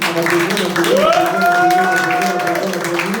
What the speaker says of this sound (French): Et on va pouvoir accueillir le prochain de cette soirée sous vos applaudissements, s'il vous plaît. On applaudit.